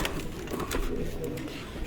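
A pigeon coos softly amid a busy, noisy background, with voices and rustling close by.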